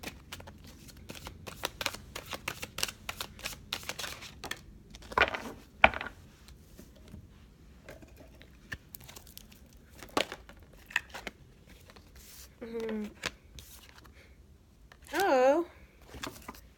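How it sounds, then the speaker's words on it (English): Tarot cards are shuffled in repeated bursts of quick, crisp riffling clicks and flutters, close up, with a person talking in between. "Y'all saw I shuffled that, right?"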